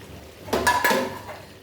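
Fried potatoes and fat are dropped into a pot of mutton, giving a couple of quick metallic clanks of a spoon against the cookware, close and brief.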